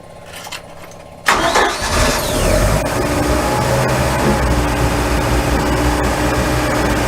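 A boat's outboard motor on a Hartley Timber Cruiser cranks and catches at once after one pump, then settles into a loud, steady running roar that continues without letup.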